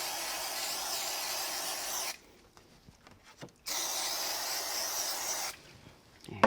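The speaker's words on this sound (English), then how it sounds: "I think I'll just use a little spray glue on it." Spray glue is sprayed onto a die-cut card background panel in two steady hissing bursts, close and alone, separated by a brief pause with faint handling noises.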